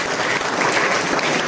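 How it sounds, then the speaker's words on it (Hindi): A school debate audience claps loudly and steadily, with dense, sustained applause filling the room and no voices rising above it. "जोरदार ताली से अभिनंदन करें"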